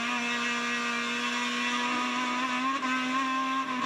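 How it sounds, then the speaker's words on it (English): A 2-litre Mazda race car engine in the ST class screams at high, steady revs during a race, a loud sustained whine with only a slight pitch shift. "The Mazda engine, the 2-litre, being revved within an inch of its life."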